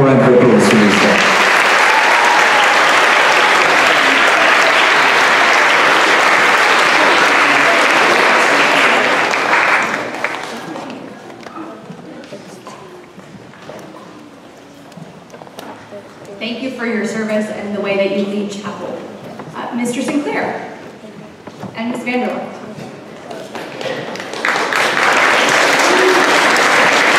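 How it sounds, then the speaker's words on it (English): Loud, dense audience applause for a school choir leadership team fills a hall for about ten seconds, fades as a speaker talks, then returns strongly near the end. "One more round of applause for these guys."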